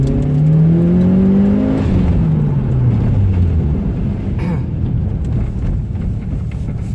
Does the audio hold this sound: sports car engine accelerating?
yes